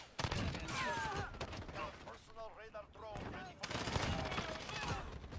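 Rapid gunfire bursts crackle in loud clusters in the video game Call of Duty, with sharp repeated shots and short pauses between them, while players talk and react over the action.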